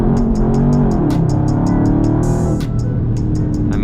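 A Dodge Charger Scat Pack on Toyo R888R tires pulls hard in first gear from about 20 mph on a rain-soaked road, its engine a loud, steady roar that rises through the run with sharp repeated clicks and ticks on top.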